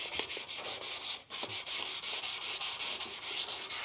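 An aluminum C10 grill is hand sanded with 400 grit sandpaper in quick, regular back-and-forth strokes, a close, hissing rasp with one brief pause early on.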